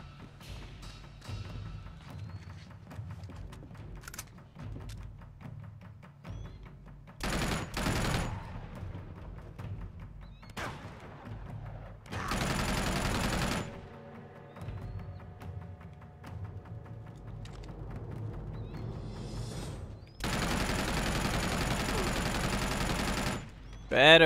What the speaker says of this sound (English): Coming around to the big machine gun.